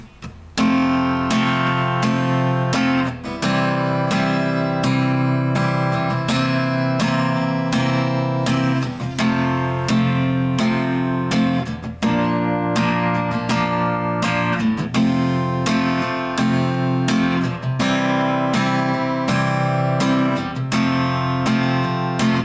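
A guitar plays the main intro of a song: steady strummed chords ringing continuously and fairly loud for about twenty seconds, alone with no voices.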